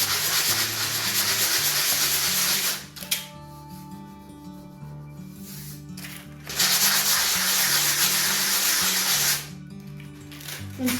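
Sandpaper on a block scrubs back and forth over a filled hole in plasterboard, close and loud. Two long bursts of rasping strokes are split by a quieter pause, and a faint hum runs underneath throughout.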